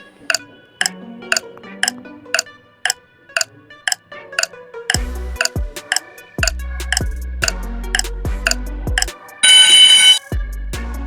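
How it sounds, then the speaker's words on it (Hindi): A 10-second countdown timer ticks steadily about once per second. Deeper thumps join halfway through, and a brief harsh buzzing alarm sounds near the end. "इसके लिए आपको 10 सेकंड का टाइमर मिलेगा"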